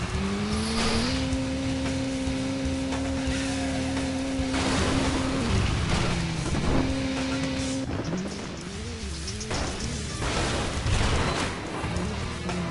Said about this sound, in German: jetzt versuche ich auch mal richtig Gas zu geben hier